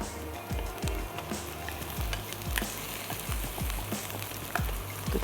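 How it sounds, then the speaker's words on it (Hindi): Minced meat cooks in a pan with stock for a shepherd's pie, giving a steady close sizzle and bubble broken by repeated scraping, stirring strokes, with no talking. "और फिर मैं इसमें स्टॉक भी ऐड करके कीमे को कुक करना है।"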